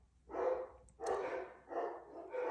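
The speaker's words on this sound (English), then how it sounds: "sorry about the dogs barking." Dogs barking somewhere nearby indoors, four rough barks spaced about half a second apart, moderately loud and heard alone without talk.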